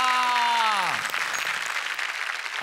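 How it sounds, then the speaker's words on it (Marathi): A studio audience breaks into applause after a sustained musical tone fades out, a dense, even clapping that carries on to the end of the clip. "ये निहार, जोरदार टाळ्या."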